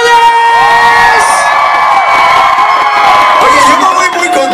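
Concert audience at a 2013 Exa show closing in Chihuahua shouting, whooping and cheering loudly and continuously, a dense close crowd roar with high shrieks and whistles rising through it.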